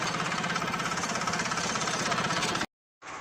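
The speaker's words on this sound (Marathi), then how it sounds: "किती धक धक धक धक करताय मशीन." A tractor engine knocks in a fast, steady rhythmic thudding at close range, loud and continuous, before cutting out briefly and resuming more faintly.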